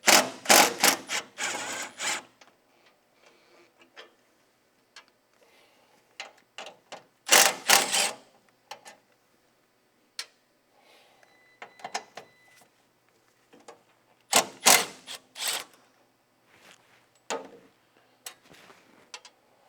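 Bolts are loosened from the engine shield of a Tilmor 520 tractor, with bursts of ratcheting clicks from a hand tool separated by quiet pauses and small metallic ticks.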